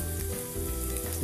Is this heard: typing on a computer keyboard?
no